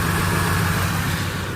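Car engine idling steadily up close with a melted catalytic converter, a continuous loud low rumble with no distinct rattle standing out and no talking.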